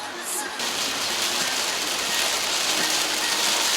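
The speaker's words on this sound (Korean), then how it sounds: "비가 너무 많이 와." Heavy rain pouring down on Jeju Island, a dense, even hiss that starts after a brief quieter moment and holds loud and steady throughout.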